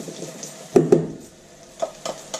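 Onions frying in a pan and being stirred, a soft sizzle underneath with a few sharp scraping clacks of the utensil against the pan.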